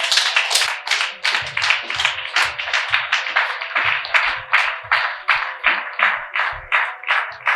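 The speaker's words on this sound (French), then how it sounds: "Est-ce qu'on peut acclamer cela?" A church congregation claps together during a French-language sermon, a dense, steady roll of many hands sustained throughout with a few low thumps underneath.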